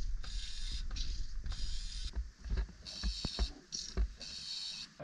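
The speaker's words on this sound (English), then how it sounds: "Get our container out, put it under the tap, push it in properly, and then we can start pumping." A hand pump draws old engine oil out of a Beta Marine B-85T marine diesel into a container, giving rhythmic mechanical strokes with ratcheting creaks and squeaks close by, and no talking.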